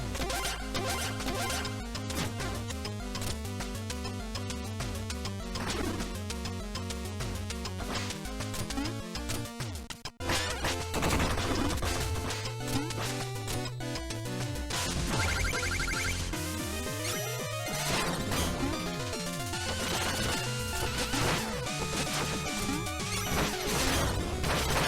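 Stage music from the Shovel Knight video game, loud, dense and energetic, with a brief break around the middle and a shift into a more intense key afterward, playing alone without speech.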